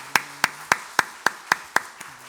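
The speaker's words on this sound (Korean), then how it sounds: "큰 박수로 감사의 박수 보내도록 하겠습니다" A church congregation claps in unison about eight times at a steady beat. The claps are sharp and evenly spaced, and the last one is softer.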